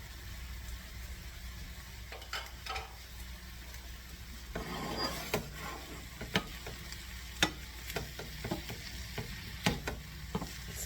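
Sausage and sage frying in a pan, a steady soft sizzle under sharp clinks and scrapes of stirring, with a louder burst of sizzling about midway, close and without talk.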